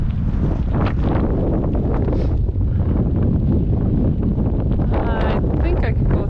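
Strong wind buffets the microphone in a continuous, roaring rush during an autumn bike ride along a trail, loud and unbroken with gusty swells.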